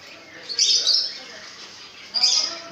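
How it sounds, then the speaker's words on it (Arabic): Two bright bursts of birdsong and chirping ring out at a bird market in Shubra that sells canaries, pigeons and parrots, close and clear against a quiet background. "نحن الآن في سوق الطيور"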